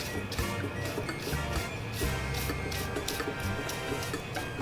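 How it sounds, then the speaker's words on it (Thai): A hair dryer used as a blower to clear hair clippings out of a disassembled hair clipper, a loud steady broadband whoosh running throughout with slight fluctuations, close up. "เดี๋ยวเราก็จะใช้ไดเป่านะครับ เป่า เศษผมออกมาให้หมดนะครับ"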